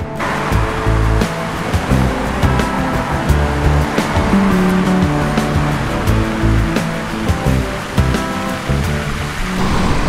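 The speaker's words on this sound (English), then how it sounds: "there's a lot of water features here" Water features splash and rush steadily at the Desert Springs JW Marriott hotel in Palm Springs, a loud continuous wash of falling water with scattered splashes and a faint low rumble underneath.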